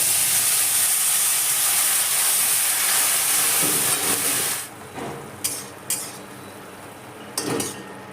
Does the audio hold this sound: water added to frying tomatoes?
yes